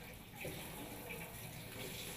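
Water runs steadily from the side spray of a Delta Pilar Touch kitchen faucet into a sink, a soft continuous hiss at moderate distance throughout.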